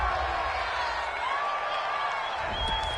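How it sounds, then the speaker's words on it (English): Home crowd in an EA Sports NFL video game cheering a penalty flag call, a steady stadium roar with scattered applause and whoops running the whole stretch under faint commentary. "This home crowd, they're happy with that call."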